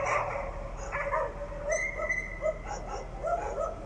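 Stray dogs bark and yip in a street in Chita, Russia, a few sharp overlapping barks and whines coming from a moderate distance over faint outdoor background noise.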